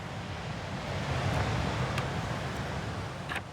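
Atlantic surf off Dakar rushes as a steady, broad wash of breaking waves, with a few faint higher clicks or splashes near the end.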